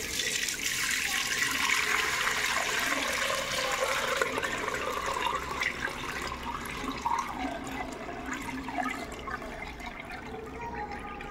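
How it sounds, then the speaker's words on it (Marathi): Melted jaggery syrup is poured through a strainer to remove impurities for a kharvas recipe, a continuous close splashing and trickling of liquid that gradually thins and softens over about eleven seconds, with no talking. "गूळ आता विरघळला आहे, तर ती गुळातली घाण वरती आली म्हणून आपल्याला आता ह्याची गाळून घ्यायचं आहे"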